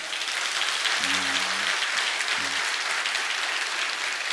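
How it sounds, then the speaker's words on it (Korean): A church congregation at a Sunday service applauds newly baptized members, with steady, full-room clapping throughout and a voice briefly speaking under it. "여러분이 다 같이 박수로 격려해 주시기 바랍니다"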